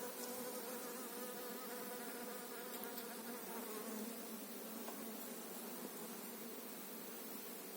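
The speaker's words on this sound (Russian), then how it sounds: "Везде все усыпано пчелами." Dense, steady buzzing of many honeybees working goldenrod blossoms in autumn, a continuous close swarm drone filling the whole stretch with no talk over it.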